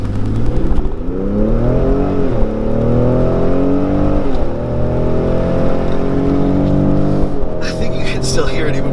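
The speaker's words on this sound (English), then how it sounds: "I'm gonna have the window down a little bit so you can hear the new exhaust bellow" A 2019 Ford F-150 Raptor with a 3.5L twin-turbo V6 and new exhaust bellows and howls through rising revs and quick shifts, loud and steady, heard from inside the cab with a window partly down.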